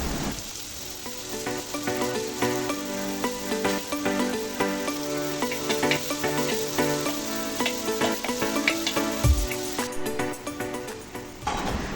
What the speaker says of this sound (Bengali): পেঁয়াজ কুচিগুলো ভালোভাবে ভেজে নেব।